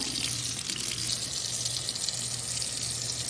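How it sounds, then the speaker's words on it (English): Steady hiss of water running from a tap into a sink, continuous and close, with no talking. "Turn my water on."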